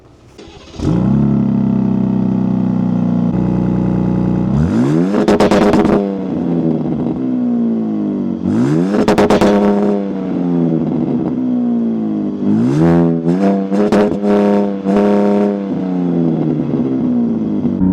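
A 2025 Ram RHO pickup truck engine idles loudly, then revs hard several times, each rev climbing in pitch and falling back to a steady rumble, close by.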